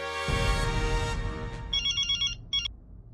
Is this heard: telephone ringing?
yes